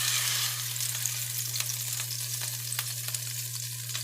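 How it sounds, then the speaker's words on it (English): Ribeye steak sears steadily in a hot pan, a close, constant sizzle with a few faint crackles throughout and a low hum underneath. "We just put a little sear on it."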